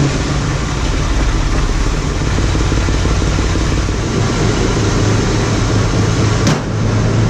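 A Ford Mustang engine runs after a jump start, a loud, steady close-up rumble that holds throughout without a break.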